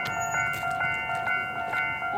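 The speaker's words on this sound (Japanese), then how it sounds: "3番線に列車が到着いたします。" A JR Hokkaido 735 series train pulls in at platform 3 of Kaminopporo Station on the Chitose Line, a steady mechanical hum with high sustained tones that swell in short pulses throughout.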